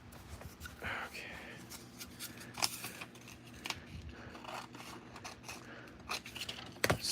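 Scissors snip during a scratch-built alien outpost miniature diorama, giving a series of quiet, sharp cuts spaced irregularly across the stretch with soft handling rustle between them.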